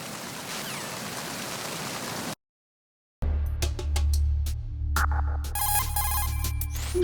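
Rain hisses steadily on the deck of a tanker in Metal Gear Solid 2, then cuts to brief silence before a ringing electronic tone with clicks takes over, fairly loud.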